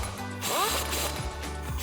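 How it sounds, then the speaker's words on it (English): A ratchet with a 19 mm socket briefly clicks while tightening wheel spacer nuts on a Silverado 1500, a few quick close mechanical clicks with a short buzzing pull in between. "we can grab a 19 millimeter socket, tighten these down"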